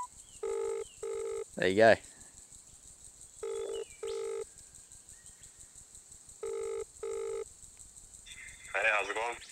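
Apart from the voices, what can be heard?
mobile phone dialing a call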